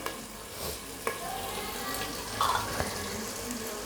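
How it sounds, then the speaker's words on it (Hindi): Spices (red chili powder, crushed chili, turmeric and salt) sizzle and hiss in a hot pan, a steady frying crackle with a few sharp stirring clinks and scrapes, close and fairly quiet. "अभी मैं इन मसाले को ज़रा भून लूँ"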